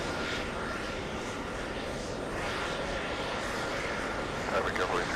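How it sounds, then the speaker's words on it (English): Several aircraft auxiliary power units run at an airport, a steady broadband roar with a tonal whine that holds throughout, loud and continuous, with faint voices mixed in. "I'm hearing the APU of a few planes turning on"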